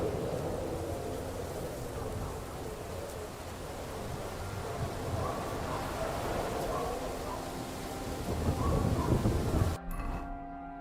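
A stormy night in the video game Kingdom Come Deliverance II, with steady rain and low rolling thunder filling the scene, a brief swell near the end before it cuts off abruptly.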